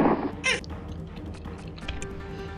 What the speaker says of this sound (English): slay some kitties.